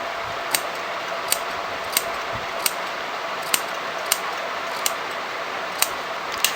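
Scissors snipping through fabric while trimming a kurti shawl collar to the seam margin, about ten sharp, evenly spaced clicks of the blades over a steady background hiss, with no one talking.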